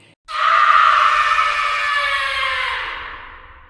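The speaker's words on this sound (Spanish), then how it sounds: "el hombre escuchó a su hijo gritar" A boy's scream used as a sound effect, one long, loud, high-pitched cry that bursts in sharply and slowly fades away.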